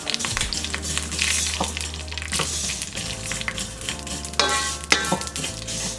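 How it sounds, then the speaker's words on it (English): Fideo noodles frying in hot oil for sopa de fideo, a steady crackling sizzle with clattering stirring and scraping in the pan, close and continuous. "And now we're just gonna fry them."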